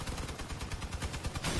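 Rapid bursts of gunfire from the vehicle-combat game Crossout, a dense string of close, loud shots fired to knock wheels off an enemy vehicle, the final burst heavier and sustained.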